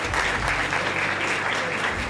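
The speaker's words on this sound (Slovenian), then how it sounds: "lahko tudi zaploskate." Audience applauding at a football awards ceremony: steady, dense clapping from a large indoor crowd filling the whole stretch evenly, with no pauses.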